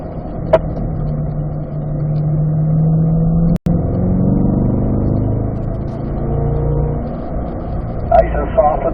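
A car driven on a race track holds a steady engine drone with gear-change dips and a rising rev, heard inside the cabin under continuous talk.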